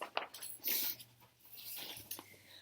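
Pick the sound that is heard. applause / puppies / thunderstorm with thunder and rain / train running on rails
puppies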